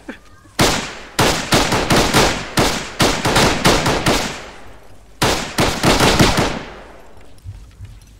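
Loud, close machine gun fire in the ArmA 3 military shooter game, rapid bursts of gunshots in two long volleys separated by a short pause, with echoing decay trailing off at the end.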